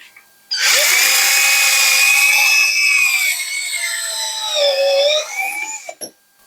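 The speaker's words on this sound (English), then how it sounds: "now we are going to drill into this. So we make a drill hole inside." A high-pitched surgical drill whines steadily for several seconds during a revision hinge knee replacement, its pitch wavering slightly as it bores into bone, then cuts off abruptly.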